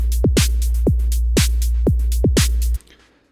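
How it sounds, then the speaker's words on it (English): Synthesized drum beat from a Native Instruments Kodiak curve sequencer, built from a sine wave and a noise generator: about eight punchy kicks with pitch-dropping tails under bright noise hits over a steady low drone, all stopping abruptly near the end. "So essentially, this is running a sine wave and a noise generator."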